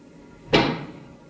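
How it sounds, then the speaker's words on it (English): A single loud, sharp knock from a giant pick strikes in a noir radio drama, a close, heavy thud with a brief decaying tail against a quiet background. "That is the sound of a giant pick."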